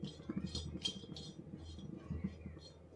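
Utensil clinks against a pan while grated coconut (khobra) roasts for a Makar Sankranti Bhogi vegetable dish, light metallic taps repeating irregularly over a soft low sizzle and kitchen rumble.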